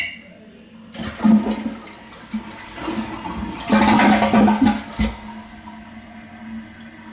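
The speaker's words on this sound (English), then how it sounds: "Give it the old flusheroo now." A toilet that sits loose on the floor is flushed, giving a rushing, gurgling surge of water that builds, swells for several seconds and then drains and refills, with an indoor, close-up sound.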